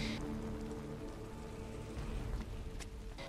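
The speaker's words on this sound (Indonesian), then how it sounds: "Di tengah malam yang hening dan turun hujan" Steady rain pours through a quiet night in a film scene beside a brother's gravestone, a dense even hiss of drops on surfaces filling the whole stretch without a break and without voices.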